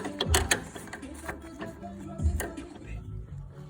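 Ratcheting socket wrench clicks while tightening a stabilizer bar link on a Peugeot 306, two strong bursts of rapid metallic ratchet clicks over faint background noise.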